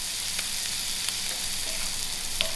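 Cumin seeds (jeera) crackling in hot oil for a Durban style lamb and lentil dhal, a dense steady sizzle with scattered small pops, close and fairly loud with no talking.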